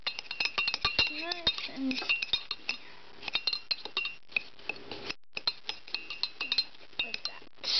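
Spoon clinking and scraping against a mug while butter and sugar are creamed for a microwave blondie, with a quick run of light metallic taps. A voice talks over the clinks.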